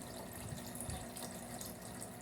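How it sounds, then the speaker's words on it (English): Water being added to a Kool-Aid drink to dilute it, a soft, steady pouring hiss with faint splashing, quiet and continuous throughout, no voices. "I can dilute my Kool-Aid by adding water."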